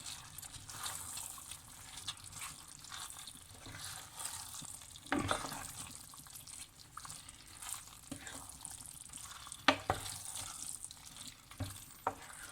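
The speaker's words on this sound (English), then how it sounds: "what you do is give it a stir so that it all mixes" Drained boiled rice is stirred into biryani curry in a pot, giving soft wet scraping and squelching with a few sharper knocks of the spoon against the pot.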